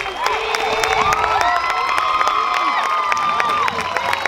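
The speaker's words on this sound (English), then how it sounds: "Let's please give them a round of applause." A graduation crowd applauds and cheers loudly, with high whoops and shouts rising over dense clapping, sustained and energetic across the whole stretch.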